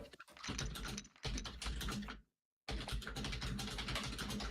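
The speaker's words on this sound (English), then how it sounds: "furiously typing away" Someone types rapidly on a computer keyboard, with dense close clicking in bursts broken by one short pause.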